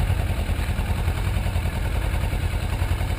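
A motorcycle engine in first gear runs as the clutch is eased out and the bike begins to roll, a steady, loud, close rumble with no voices.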